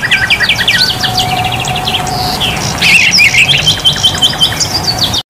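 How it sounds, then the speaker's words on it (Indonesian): Bulbul (kutilang) birds at an Indonesian bird market chirp and squawk in rapid, repeated bursts, close and loud over a steady background of other birds and insect-like hiss. "buat para teman kicau mania yang lagi cari jenis burung kutilang"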